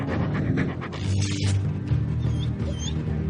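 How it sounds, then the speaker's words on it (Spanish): A Portuguese water dog panting close by, a quick run of breathy, rhythmic huffs over a constant low background hum, with a few faint squeaks near the end. "El perro de aguas portugués es una de las razas más antiguas de perros domesticados."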